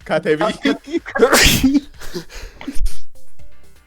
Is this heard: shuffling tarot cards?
no